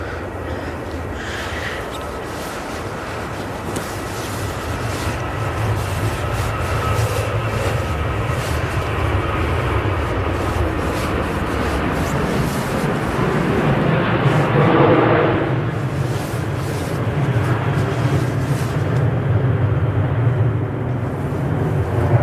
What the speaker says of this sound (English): Sounds like 777 spooling up. Well, it's not spooling up, starting up.